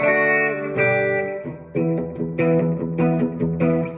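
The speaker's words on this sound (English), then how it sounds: "when I flip it all the way down to the humbucker, that's the brightest, highest output" Electric guitar on the humbucker pickup, its brightest, highest-output setting, with a bright, slightly gritty overdriven tone, strummed chords ringing out loud and close, with no voices.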